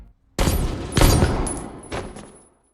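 Gunshots ring out in a film scene, a burst of sharp loud reports with echoing decay, then another shot near the end before silence.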